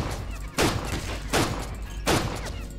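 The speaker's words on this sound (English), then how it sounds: "Someone's got a machine gun or something." Machine gun fire in the Stalin Subway video game during an ambush at Sverdlov Station: three heavy, booming bursts at even intervals, each rising sharply from a constant rumbling background.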